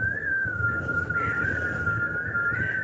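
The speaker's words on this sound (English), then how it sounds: "That wind's picked up." A steady high-pitched whistle holds a near-constant tone throughout, wavering slightly, over a low rumbling background with no voices.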